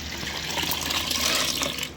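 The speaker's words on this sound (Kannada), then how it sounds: "ನೋಡಿ ಇಷ್ಟು ನೀರು ಹಾಕ್ತಾ ಇದ್ದೀನಿ." A steady stream of water pours into a pressure cooker, a continuous hissy splashing filling the whole moment at an even level with no talking.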